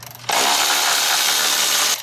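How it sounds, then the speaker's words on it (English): Power tool spinning off a rear sway bar link bolt on a Nissan S14 during a Honda K-series swap, a loud, steady whirring burst of about a second and a half, close up. "unscrewing some sort of bolt. The rare sway bar link."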